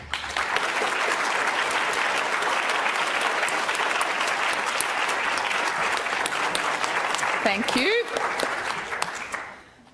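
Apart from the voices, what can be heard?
audience clapping to vote for debate team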